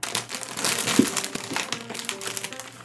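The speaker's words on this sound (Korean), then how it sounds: "여기 뜯어볼게요" Crinkly plastic wrapper around a Pokémon bread snack being torn open up close, a steady crackling rustle lasting throughout, with a faint low hum beneath.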